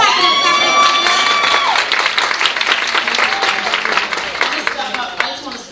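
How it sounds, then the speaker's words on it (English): Loud applause and cheering from an audience at a women's empowerment symposium, with whoops and excited voices over sustained clapping that slowly fades. "Clap it up, clap it up, clap it up."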